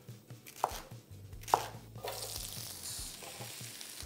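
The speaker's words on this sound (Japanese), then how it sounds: "もう玉ねぎも簡単に切ってっちゃって、キャベツもザクザクっ" A knife chopping onion and cabbage on a board while making yakisoba, a few sharp, distinct cuts followed by quieter kitchen sounds, fairly soft and close, with no talking.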